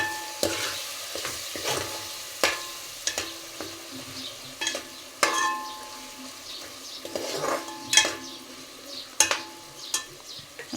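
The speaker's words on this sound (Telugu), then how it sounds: "ఇదంతా కలిపేసుకుందామండి" A spoon scrapes and stirs through a sizzling pan of dried fish curry with tomato and drumstick, steady repeated strokes, close and clear, with frying crackle underneath.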